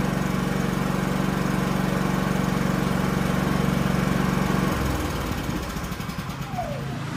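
A backup generator engine runs steadily with a loud, even drone, then cuts out about two-thirds of the way through. A quieter residual hum remains as the engine winds down.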